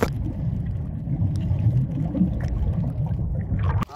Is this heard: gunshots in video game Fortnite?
no